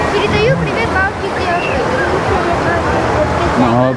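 Sea waves wash onto the crowded beach at Vityazevo in Anapa, a constant loud rush of surf with voices of nearby people chattering over it.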